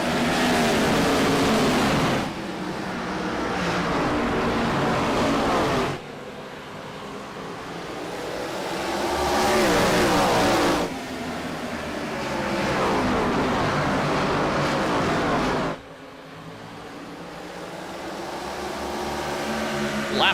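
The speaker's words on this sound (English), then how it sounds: "we're talking 800 plus horsepower under the hood as the pace car pulls off and we get ready to go green" Gen 4 Cup Series race cars with 800-plus horsepower accelerating at the green flag at Irwindale, a loud continuous engine roar that surges and dips in repeated waves as the pack passes, with no talk over it.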